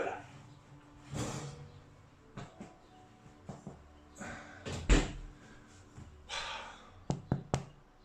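Knocking on the bottom of a freshly baked 24-hour-fermented sourdough loaf in a home kitchen, a few short hollow taps close by, mixed with handling and setting-down clatter.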